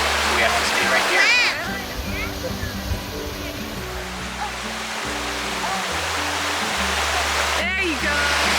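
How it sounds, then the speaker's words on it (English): A small hot spring creek in Hot Springs, Arkansas, flows with a steady, close rushing and splashing of water, while people talk over it at times. "And then we also got to this place where there was a little creek."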